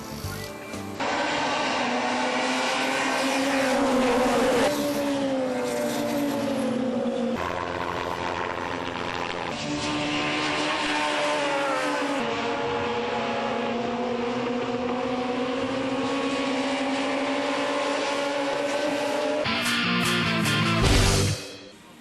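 Chevrolet touring cars of the 2007 WTCC season at Curitiba roll toward the start of race one, a loud sustained engine drone with rising and shifting revs lasting the whole stretch, a dense field of cars with no speech.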